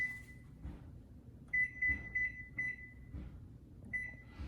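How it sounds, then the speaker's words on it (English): Kitchen timer being set, a series of short electronic beeps, some single and some in quick pairs, clear and close against a quiet room. "I'm gonna set a timer for 60 minutes."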